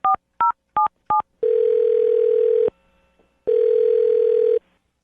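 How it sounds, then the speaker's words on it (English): A telephone keypad dials a number with four quick two-tone beeps, followed by two long, steady ringing tones with a pause between them while the call goes through. No voices are heard. "I'm going to dial Alyssa's phone number right now"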